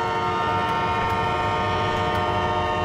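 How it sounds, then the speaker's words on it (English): A train in a train simulator game setting off, a steady loud mechanical drone with layered sustained tones that hold throughout, with no speech. "Start this train going,"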